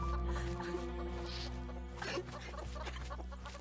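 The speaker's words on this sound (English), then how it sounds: "chickens are the only things they left behind" Chickens cluck in a Vietnam War video game, several soft irregular calls set low in the mix beneath a sustained hum of background music and ambience, with no speech.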